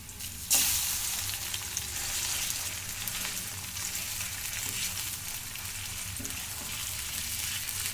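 Onion paste frying in a pan for a village-style chicken curry, a steady loud sizzle throughout with a sharp burst of hiss as it first hits the hot oil and occasional stirring scrapes.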